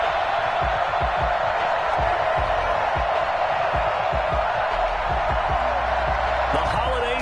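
A Baltimore stadium crowd in a Madden NFL game roars as a steady wash of cheering, with a commentator talking over it throughout.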